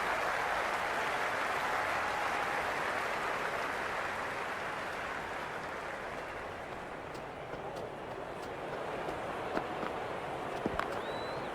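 A stadium crowd in the Cricket 26 video game gives a steady, broad wash of applause and cheering at moderate level for the whole stretch, with a commentator talking over it.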